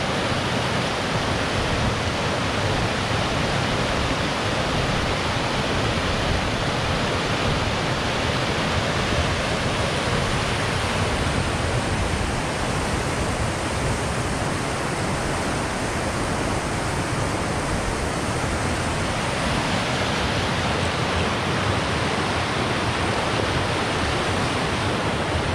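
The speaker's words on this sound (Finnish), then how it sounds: "Viime päivinä tullut vettä sen verran, että kyllä virtaa." River rapids rush past an abandoned water mill after recent rainfall, producing a loud, steady roar of churning water that continues alone without pause.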